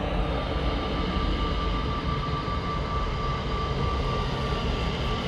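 An EasyJet Airbus A320neo departs Amsterdam Schiphol, its engines giving a steady, loud, broadband roar that holds evenly throughout with no talk over it.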